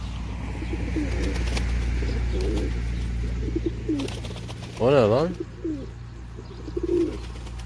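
Pigeons coo softly in the background while a person speaks briefly, then one louder, warbling coo rises close by near the middle.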